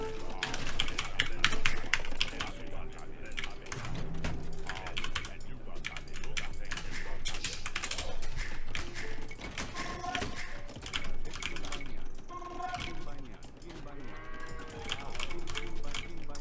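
Computer mouse and keyboard clicking during a real-time strategy game, a rapid, continuous patter of close taps under game sounds and a voice talking.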